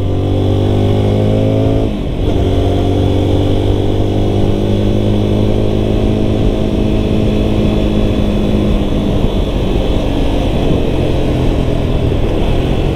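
A 2022 GPX Demon GR200R SE motorcycle engine on a test ride, loud and close, revving up through the gears with a brief dip at a shift, then holding a steady drone.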